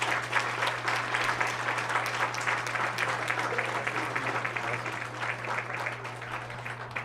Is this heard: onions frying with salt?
no